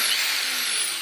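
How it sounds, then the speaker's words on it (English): A Drill Brush power scrubber scouring grime off a surface gives a steady, close, high-pitched whirring buzz that holds evenly for about a second with no talking. "But the Drill Brush, it cometh to take away"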